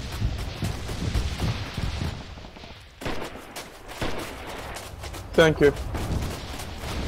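Artillery and gunfire rumble through a Red Orchestra 2 battle at Mamayev Kurgan, dense bursts and distant booms layered over the first few seconds, then sparser shots, with voices talking over the fighting.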